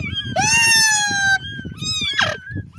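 High-pitched meows from small kittens inside an old stump in a stable, two drawn-out cries close by, the second rising and breaking into a short squeal.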